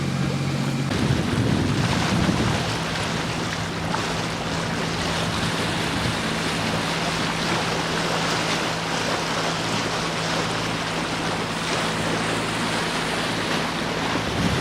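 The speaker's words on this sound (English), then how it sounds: "These were pretty impressive standing waves, considering we were coming on the flood," A boat pushes through standing waves on a flood tide with no wind off Scotland, giving a loud, continuous wash of water and engine rumble that stays steady throughout.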